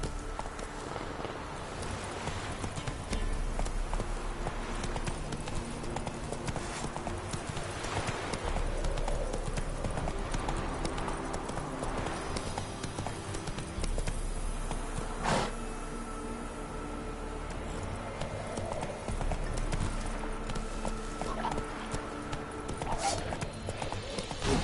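Roach the horse's hooves clip-clop steadily across open ground in The Witcher 3, a continuous rhythmic beat with a brief whinny and game ambience around it.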